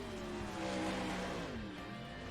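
A 410 sprint car engine runs practice laps on a dirt track, a steady loud harmonic drone with a pitch that rises then dips as the car passes, with no talk over it.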